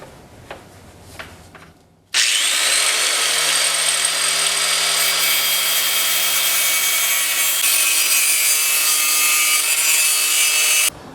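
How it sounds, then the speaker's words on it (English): An angle grinder cuts into a metal bracket during a Pontiac Fiero 3800 engine swap, a loud continuous high-pitched grinding that begins abruptly after a quiet start and holds steady for about nine seconds. "It's always good to play it safe and just kind of grind it a little short and then work your way back"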